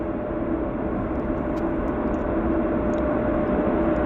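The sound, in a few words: WestJet jet airliner on takeoff roll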